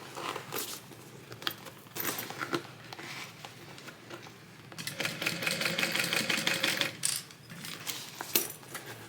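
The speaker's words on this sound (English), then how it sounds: "I'm sewing the top stitch with a 1/4 inch seam allowance." A sewing machine runs a quarter-inch top stitch around a tote bag, with bursts of close whirring broken up by scattered clicks and taps from handling the fabric.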